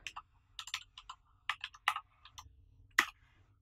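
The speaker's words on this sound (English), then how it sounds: "I type in the password. The password is being typed." Password being typed on a Steam Deck keyboard: a dozen or so light, uneven clicks and taps, close and quiet, with a sharper final press at the end.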